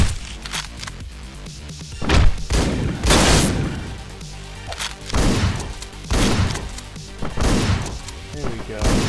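Repeated double-barrel shotgun blasts in the Hotline Miami 2 video game, several loud bursts spaced unevenly among busy game sounds, with a person talking over the action.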